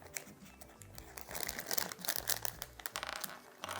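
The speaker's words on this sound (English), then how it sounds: "You can see me cutting it open right now." Crinkly plastic foil of a LEGO Series 20 collectible minifigure blind bag being cut open and handled up close, a dense run of crackling, rustling crinkles with sharper snips, no talking.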